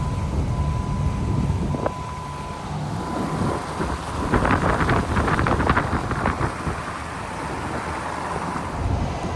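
A Jeep Wrangler with its doors off rolls in two-wheel drive along a slick, snowy road during a 27-degree snowstorm, giving a steady, close, low rumble with wind buffeting throughout.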